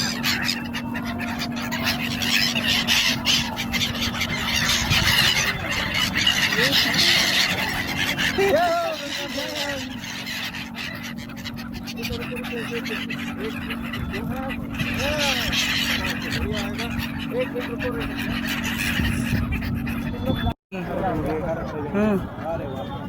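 A flock of Siberian migratory birds at the Magh Mela near the Ganga gives repeated honking and squealing calls over a steady crowd murmur, with people talking throughout.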